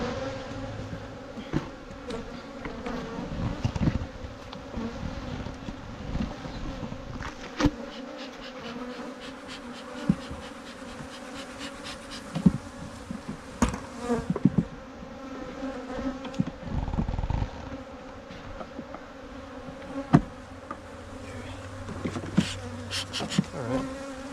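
Honey bees hum and buzz steadily around an opened hive during a brood check in preparation for almond pollination, a dense, continuous drone with individual bees zipping close past, occasional knocks of hive equipment, no talk.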